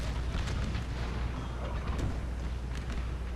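Cannon artillery fires in an American Civil War battle game, the booms blurred into a dense, continuous low roar of battle, with scattered sharper reports standing out over the steady din.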